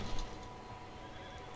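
Horses neigh in a barn in the video game Red Dead Redemption 2, a brief whinny at the start fading into steady low stable ambience, fairly quiet.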